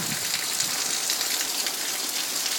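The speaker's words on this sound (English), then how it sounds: "it's just raining hard here and getting real windy now" Heavy rain and wind during Hurricane Isaac make a dense, constant hissing rush of water, loud and close with no pauses.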